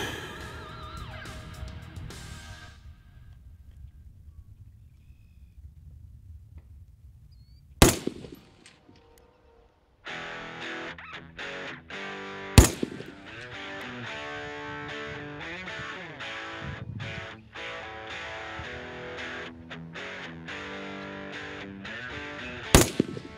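Three sharp, loud rifle shots crack at several-second intervals at a range while a rifle is zeroed with 62-grain solid copper ammunition, over a steady hum of processed background sound.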